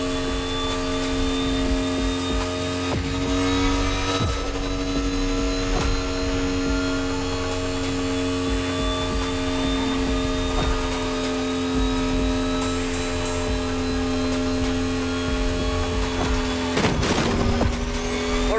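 The Silver Arrow car in The Crew Motorfest drives steadily, its engine giving a loud, even electric-like hum with a sustained tonal whine and faint road noise throughout.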